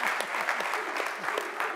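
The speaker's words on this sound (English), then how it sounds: "I want to give a round of applause to the panelists today, man." An audience at a convention applauding a panel, a brief burst of steady clapping from many hands, moderately close, with faint crowd murmur underneath.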